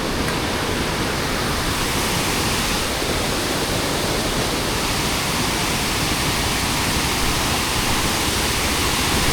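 A steady, full-bodied roar of a waterfall, broad and constant throughout with no pauses or other sounds.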